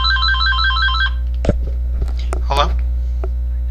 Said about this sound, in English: Sorry for the shrill phone ring.